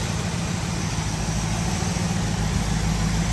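A 1970 Dodge Challenger T/A engine idles steadily with a smooth, low rumble that holds constant throughout, with no voices over it.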